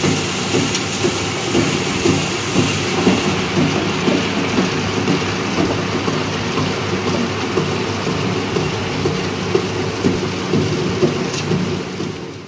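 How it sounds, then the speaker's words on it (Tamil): A wet grinder grinding soaked green gram with mustard and salt and no added water, giving a steady, loud, continuous mechanical rumble and churning drone that holds evenly for the whole stretch with no talk. "பயிரை நான் இப்போ கிரைண்டரில் போட்டுட்டேன், இதை ஓட விட்டுருவோம்."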